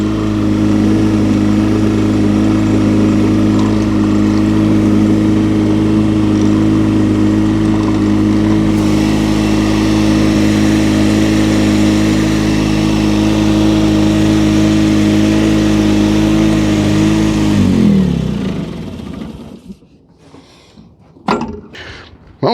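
A Honda HT3813 lawn tractor's engine runs at a steady, loud idle for about eighteen seconds, then shuts off and winds down, followed by a few scattered clunks and knocks close by.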